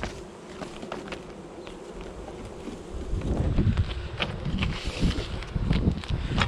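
Honey bees swarm around an open hive during a colony inspection, a dense steady buzz that swells louder in the second half, with wind rumble against the microphone.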